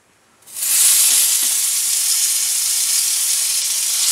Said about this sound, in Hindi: ऑयल में थोड़ा सा हल्दी पाउडर, ऑयल गर्म हो चुका है,